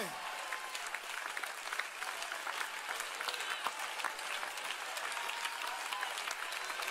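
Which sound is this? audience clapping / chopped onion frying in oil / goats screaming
audience clapping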